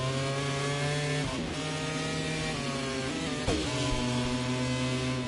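Ducati racing motorcycles howl flat out down a straight in the MotoGP25 racing game, a steady high-pitched engine wail with gear-shift dips and a second bike sweeping past, loud and continuous with no talking.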